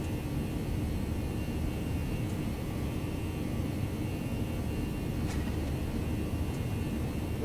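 Steady, loud roar of twin jet engines spooling at takeoff thrust on a simulated ToLiss A319 airliner in X-Plane 11, a continuous broadband rumble and hiss holding even throughout with no talk.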